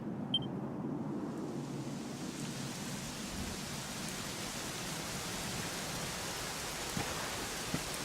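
Steady rain falls in a soft, continuous hiss in Dragon Quest XI at Dundrasil, with a faint low rumble underneath and no voices.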